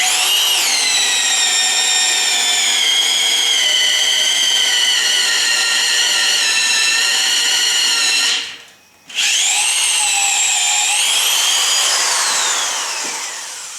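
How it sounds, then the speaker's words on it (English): A half-inch power drill drives a speed bore bit into a log, giving a loud, high, strained whine. It cuts out for about half a second, restarts and holds, then fades slightly at the end. "I'm using a 1/2 inch drill too, so you've got some oomph"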